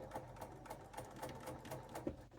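A sewing machine stitches quilt fabric for a sawtooth star block, a faint, rapid rhythmic clatter of the needle running steadily at close range and very low volume.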